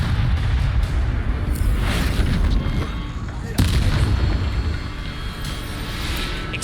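Bombarda blasting spell from Hogwarts Legacy, loud booming explosions with a sharp blast around the middle over rumbling game noise.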